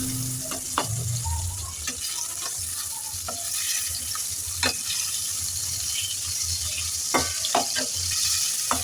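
Snakehead fish frying in hot oil after being turned over, a soft steady sizzle with scattered spatters and occasional clinks, close but fairly quiet, with no speech.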